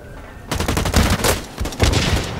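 Fast bursts of automatic gunfire in the video game Blacklight: Retribution erupt suddenly and continue in loud, rattling volleys with short gaps between them.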